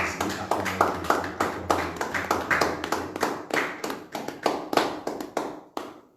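A church congregation claps in steady rhythmic bursts during a French-language midday prayer service, close and lively, with faint voices under the clapping before it stops abruptly near the end.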